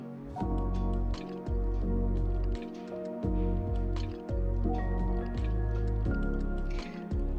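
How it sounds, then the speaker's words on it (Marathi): Cooked potatoes and peas being mashed with a masher for hotel-style pav bhaji made in a pressure cooker: repeated soft, squishy thumps in a steady rhythm over a constant tonal background. "मॅशरने व्यवस्थित भाजी मॅश करून घ्यायची जेणेकरून बटाटे वटाणे ह्या सर्व भाज्या एकत्रित होतील"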